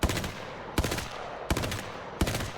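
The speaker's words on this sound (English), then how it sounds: "Let's go look at the recoil pattern here. This is the Spitfire" Spitfire light machine gun from Apex Legends firing in a steady automatic rattle, with four sharper bursts marking the stream about every seven tenths of a second, loud and close.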